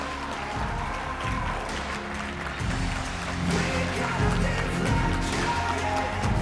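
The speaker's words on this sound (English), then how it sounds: "Please, round of applause for Jay." A conference audience applauds as Zscaler founder and chairman Jay Chaudhry takes the stage, moderately loud sustained clapping mixed with a booming music bed that swells partway through.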